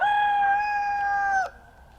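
A rooster on a farm crows one long, loud, close call that holds steady before breaking off abruptly, followed by a quieter trailing note; no one speaks.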